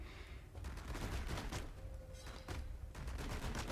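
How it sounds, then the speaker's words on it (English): Jade's revolver in the game Battlerite fires rapid repeated shots, a quick rattling burst of gunfire that is faint and continuous with short pauses, no talking. "with her basic left click ability is just fire the revolver shot, doing 4 damage each shot"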